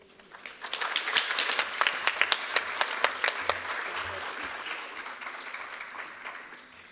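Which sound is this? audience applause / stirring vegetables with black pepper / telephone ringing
audience applause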